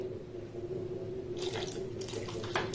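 Water is poured into a semolina and ripe mango mixture for a Bengali pitha, a short soft splashing trickle starting partway through over a low steady hum in a quiet kitchen.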